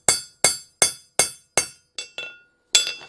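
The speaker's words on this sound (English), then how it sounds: "I'm going to start forging this down to make a nail head." A hammer strikes a nail head being forged on an anvil at a blacksmithing demonstration, giving about eight sharp metallic rings in a steady rhythm, each decaying quickly, the later blows softer and more irregular.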